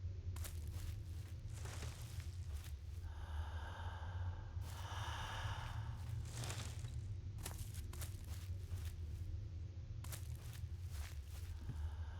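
Slow, steady breathing of a character in the Elder Scrolls: Oblivion video game, soft repeated inhales and exhales over a low ambient hum.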